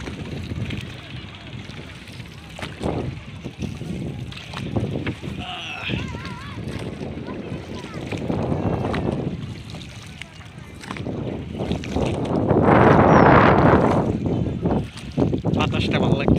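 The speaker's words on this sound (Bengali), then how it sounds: "অনেকদিন পরে নৌকা বাইতেছি" A rowboat is paddled on the Yamuna river, with water splashes and wind gusts swelling and fading under people's voices, including a long rush of wind in the later half.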